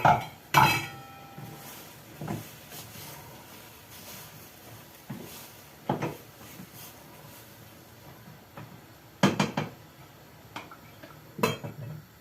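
A cooking pot is handled on a stove while beans are checked, giving sparse metallic clanks and knocks of pot and lid in a quiet kitchen, with short sharp bangs spread across the clip.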